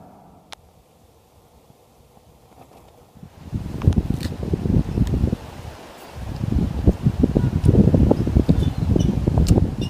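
Wind picking up outdoors in wilderness country about ten miles west of Terrace, rising from near quiet into steady, gusty rushing and buffeting that grows louder after a brief lull, with no talk.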